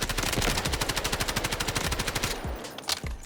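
A CI 19 firing in the video game Delta Force: a fast, evenly spaced automatic burst of loud gunshots lasting about two seconds, then cutting off with a couple of faint trailing clicks.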